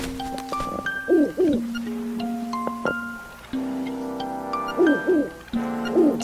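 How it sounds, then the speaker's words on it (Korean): Owl hooting in the Zelda: Link's Awakening video game, a series of soft wavering hoots repeated three times over sustained electronic tones, close and clear with no talking. "부엉이가 또 잔소리하러 오시나 봅니다"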